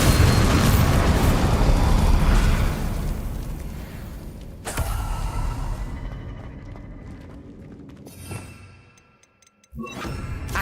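The Bombarda blasting spell in Hogwarts Legacy goes off as a loud, roaring explosion with a long rumbling tail. A second blast follows, then the sound fades to a ringing, clanging decay and brief quiet before a final burst.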